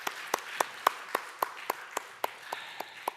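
A church congregation claps during a Sunday worship service, a steady run of about a dozen evenly spaced, sharp claps heard at moderate distance in a reverberant room.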